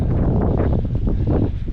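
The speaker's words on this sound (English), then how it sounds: "The wind." Wind gusting straight into an outdoor microphone, a loud, close, broadband rumble and buffeting that fills the whole short stretch with no talking.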